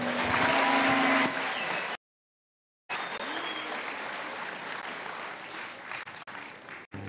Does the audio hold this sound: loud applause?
yes